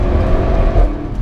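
An Audi RS6 Performance car accelerates hard with its standard exhaust, giving a loud, close, continuous deep engine and exhaust roar throughout.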